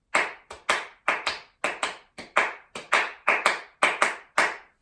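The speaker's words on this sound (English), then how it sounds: "So I'm going to clap it through" Hands clap out a swing rhythm alone, close and crisp, in uneven long-short pairs that repeat steadily about a dozen times with brief gaps between them.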